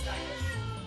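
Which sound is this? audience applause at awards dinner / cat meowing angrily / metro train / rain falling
cat meowing angrily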